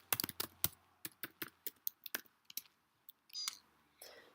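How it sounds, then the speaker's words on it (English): Fingers type a password on a Mac keyboard, a quick run of crisp, close key clicks in an uneven rhythm, then a short pause and a couple of softer clicks and a faint rustle at the end. "Click the lock icon and you enter your user administrator password."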